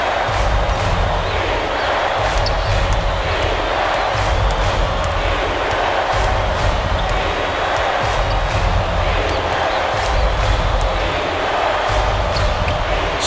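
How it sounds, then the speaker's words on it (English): Simulated arena crowd noise from the College Hoops 2K8 basketball video game on Xbox 360, a steady loud roar and cheer lasting throughout with faint court thumps, no voices on top. "Listen to the crowd burn."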